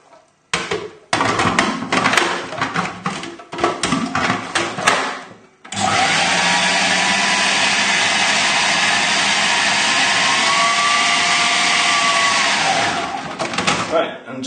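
A food processor whirs through coriander and a lemon crust mix in short pulses, then one long loud sustained blast that winds down near the end, close by.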